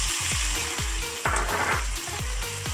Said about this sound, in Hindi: चिकन को हम हल्का सा फ्राई करेंगे